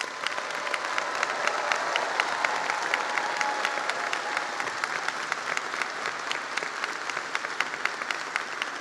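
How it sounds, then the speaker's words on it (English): Sustained crowd applause at a University of Kentucky College of Medicine graduation ceremony for the class of 2026, dense steady clapping filling the hall for the whole stretch with no voices over it. "let's give a round of applause to the class of 2026"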